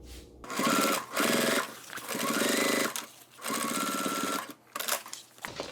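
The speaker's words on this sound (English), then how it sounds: "All we need to do now is sew the top here, top stitch there." A sewing machine top stitches a pocket on a fabric bag, running in loud steady bursts with brief pauses between stretches of stitching, close up and with no talking.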